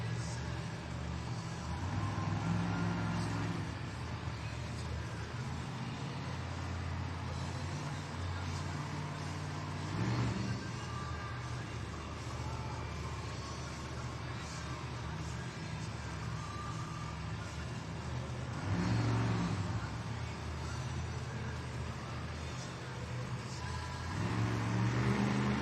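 Dragon monster truck engine at a Monster Jam arena show in Colorado Springs, refiring and revving loudly in steady bursts over crowd noise and arena ambience.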